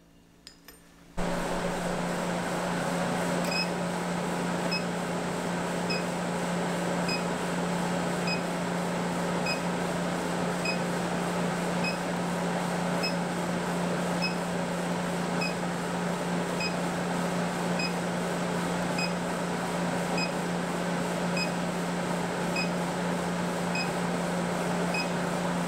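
An induction heater hums steadily while heating a 3/8 inch square steel bar for forge welding, a constant electrical drone with a faint, regularly repeating high tick running through it and no voices.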